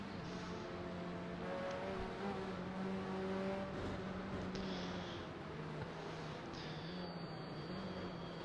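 A Volvo TCR touring race car runs at Sandown Raceway with a steady engine drone whose pitch shifts slightly as it passes, moderately distant and without talk.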